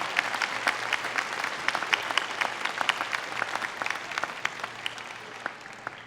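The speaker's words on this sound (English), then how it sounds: "Please give them a round of applause." Steady applause from a commencement crowd at Muskegon Community College, many hands clapping continuously with sharper individual claps standing out, moderately distant and without talk throughout.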